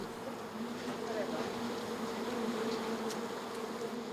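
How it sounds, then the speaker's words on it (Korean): A swarm of honeybees clusters on a jujube tree in the city, making a continuous, even buzzing drone at moderate distance against soft outdoor background. "갑자기 대추나무에 등장한 꿀벌떼가 사람들은 신기하기만 한 모양입니다."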